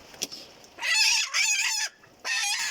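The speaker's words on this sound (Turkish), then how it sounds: "Bu da rahibe fizan tavuğu." A Polish crested hen gives three loud, drawn-out squawking clucks in quick succession, close by, with brief pauses between them.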